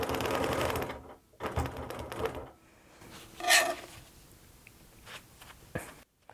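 A sewing machine quilting along a ruler runs in two short, close bursts of rapid stitching, then falls to quieter handling clicks and a brief scrape as the fabric is shifted.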